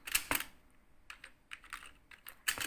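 Close, light keystrokes on a computer keyboard come in uneven bursts, a couple of sharp taps at the start, scattered presses in the middle and a firmer cluster at the end, with no one speaking.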